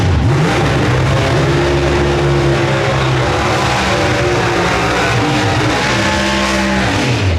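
An orange Ford Mustang Pro Stock drag car at an NHRA finals qualifying session, its engine revving loud and close in a sustained high-rpm roar with rising and falling pitch throughout.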